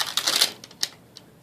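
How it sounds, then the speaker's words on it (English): Brief crisp crackling and rustling of paper up close, a few quick bursts then quieter crinkles fading out. "Top paper always makes so much noise."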